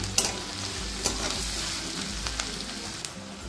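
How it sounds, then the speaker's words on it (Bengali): Chopped onions frying with whole spices in a pan, a close, moderate sizzle with a few sharp stirring scrapes and clicks over a brief stretch, no voices. "যতক্ষণ না পেঁয়াজের এই কালারটা ব্রাউন কালার আসছে ততক্ষণ পর্যন্ত পেঁয়াজটাকে ভেজে নিতে হবে।"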